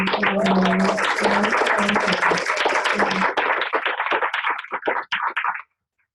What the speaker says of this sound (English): Can you join me in giving them a round of applause?